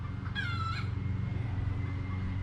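A rooster crows once on a small farm, a short strained call rising over steady low background noise, somewhat distant.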